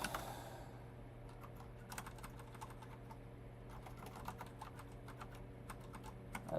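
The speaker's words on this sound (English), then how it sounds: "I love typing this out every time I do one of these problems." Quiet, rapid typing on a computer keyboard while coding, irregular bursts of soft key clicks over a low steady hum, no voices.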